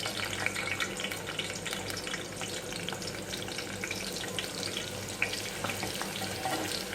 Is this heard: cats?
no